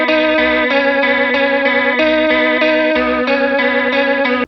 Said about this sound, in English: Check out the vibrato.